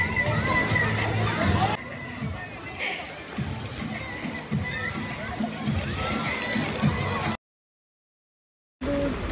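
Water splashing and sloshing at a water slide during a family picnic, amid lively voices and children's chatter, with a brief drop to silence near the end.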